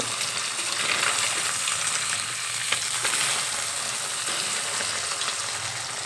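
Parshe fish fry in hot oil after being flipped to cook the second side, giving a loud, continuous crackling sizzle close by that barely changes, with a faint scrape partway through and no talking.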